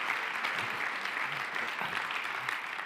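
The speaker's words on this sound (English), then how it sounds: "let's have a round of applause for all of the partners" Audience applause for business partners at an Oracle multicloud and AI event, a steady wash of clapping held at an even level for a few seconds, fairly distant and without voices.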